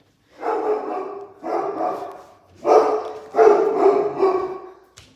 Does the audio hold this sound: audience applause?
no